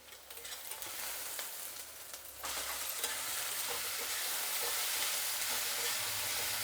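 Vegetable pieces drop into a hot pan for gongura pappu, and the sizzle abruptly swells into a loud, steady hiss of frying with faint stirring scrapes. No one speaks.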